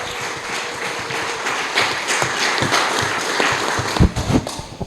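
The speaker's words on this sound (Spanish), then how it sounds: "Si usted lo va a aplaudir, apláudale con fuerza." A church congregation applauds loudly with a dense, steady wash of clapping that continues throughout, with a few sharper claps near the end.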